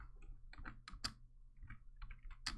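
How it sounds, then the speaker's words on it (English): Keys on a computer keyboard clatter in quick, irregular bursts of sharp clicks, faint and close, with brief pauses between strokes and no talking. "I know y'all can hear my keyboard clicking and shit"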